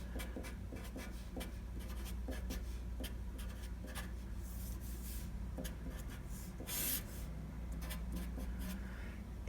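Steady scratching strokes of math being written out by hand on paper or a board, close and continuous with small pauses between marks.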